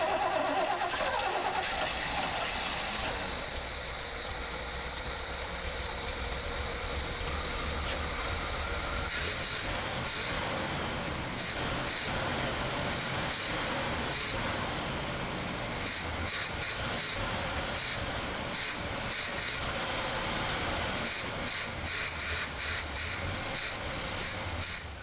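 A matching-numbers 1971 Corvette engine fires up for the first time after sitting, cranking and then settling into a loud, rough, continuous running rumble heard close up without talk.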